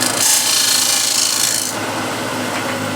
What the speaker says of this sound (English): small spindle gouge, go right into the corner and bring it out